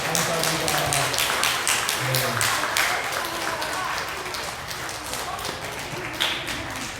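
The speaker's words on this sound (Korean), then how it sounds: "우리 친구들 건강하게 여름 잘 지내라고 다시 한번 박수 치겠습니다" A church congregation at a Sunday service claps together in a dense patter of hand claps that rises and then slowly fades.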